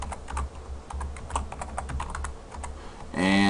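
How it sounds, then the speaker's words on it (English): Rapid keystrokes on a computer keyboard as a username is entered into a SQL database user setup, an irregular run of close clicks lasting about three seconds before a louder tonal burst cuts in. "I'm just going to go ahead and type in my name."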